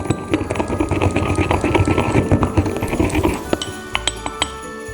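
A grinder whirs loudly and continuously through green cardamom pods and bits of husk for most of the stretch, then cuts off, leaving a few sharp clinks and taps near the end.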